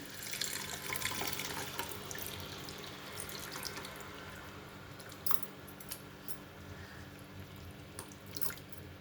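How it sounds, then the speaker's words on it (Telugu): Tamarind juice pours into a pan of Telugu fish pulusu curry, giving a quiet, steady trickling stream with a few faint drips and clinks. No voices are heard. "ఇప్పుడు చింతపండు పులుసు పోసేసుకుందాం."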